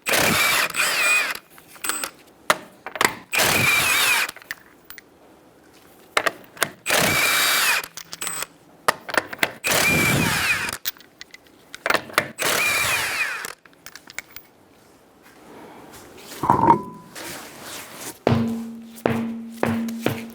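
A power tool with a 21mm socket works on a Kia Soul's rear wheel, firing in repeated short bursts of whirring impact with quiet gaps between, then a sustained lower hum near the end.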